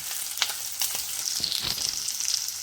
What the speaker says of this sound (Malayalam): ഉള്ളി ചതച്ചതും ചെമ്മീനും കൂടെ ഉള്ള മിക്സ് നമ്മൾ ചേർത്ത് നന്നായിട്ടൊന്ന് വഴന്ന് വരണം കേട്ടോ